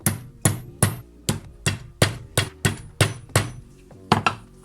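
Metal hammer blows ring out on an anvil in a steady series of about a dozen sharp, resonant strikes, close and clear with no talking, while setting chainmail parts for a LARP collar.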